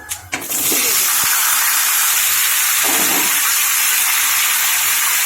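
Cut papaya and potato dropped into hot mustard oil with panch phoron, whole garam masala and dried red chillies: a few quick clatters, then a loud, steady, close hissing sizzle that carries on alone.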